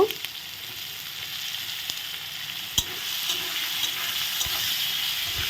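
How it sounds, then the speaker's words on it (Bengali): Onions stirred into hot oil with garlic for an egg ghugni sizzle steadily up close, with a few sharp clinks and scrapes of the spoon against the pan. "পেঁয়াজ দিয়ে একটু নেড়ে দিলাম"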